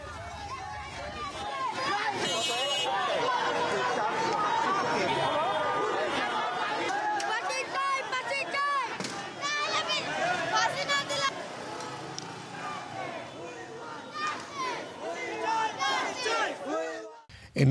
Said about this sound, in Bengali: কালশী এলাকায় বিক্ষোভ মিছিল করেছেন তারা।